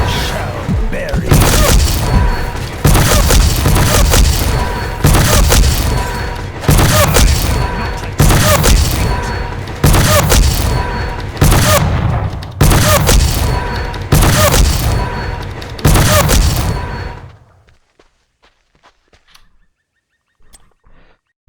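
Greymane's Cursed Bullet ability in a video game, a run of about eight heavy booming shots at a steady two-second rhythm, loud and close, ending abruptly in near silence.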